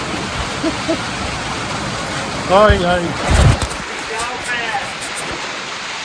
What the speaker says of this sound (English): we're getting rained on now. It's gonna be noisy in here with a metal roof.